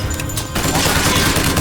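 Sustained heavy gunfire erupts during combat in the video game BioShock Infinite, a loud, dense barrage of overlapping shots that roars on without a break after a short quieter lead-in.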